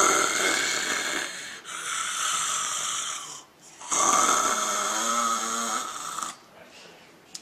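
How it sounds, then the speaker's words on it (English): A wife snoring loudly in bed, heavy rasping breaths in long drawn bursts with a brief pause between, close and alone with no talk. "It was my wife snoring."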